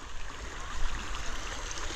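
A strong river rushes steadily nearby, a dense, continuous roar of flowing water with no voices.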